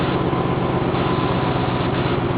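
A 1997 Chevy Tahoe on its single stock exhaust idles just after a cold start, a loud, steady, close engine rumble with an even low throb and no voices.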